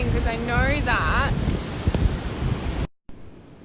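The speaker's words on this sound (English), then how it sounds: "I know it's a little bit windy" Wind buffets a microphone outdoors in steady low rumbling gusts, with someone talking over it throughout before a brief dropout.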